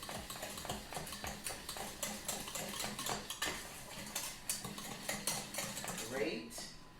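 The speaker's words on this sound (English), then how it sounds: "So we're gonna whisk, whisk," Whisk clattering rapidly against a bowl while preparing a soul food supper with smothered pork chops, a busy run of metallic clinks and scrapes throughout, close and fairly loud.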